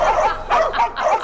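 Several small dogs yip and bark in quick bursts as a balloon bursts on a game show, close and loud with no talk.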